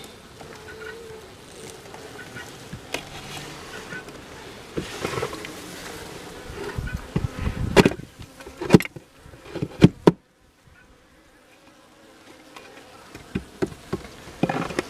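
Steady insect buzzing fills the clip, a dense hum of many honeybees inside the hive nest in autumn, broken by a few sharp clicks and a brief near-silent pause.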